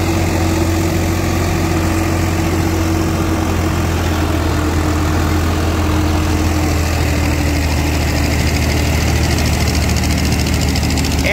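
A Swaraj 742 XT tractor engine runs steadily throughout, pulling an 8-foot rotavator, with a deep, constant drone and a heavy mechanical rumble from working machinery. It stays loud and close the whole time.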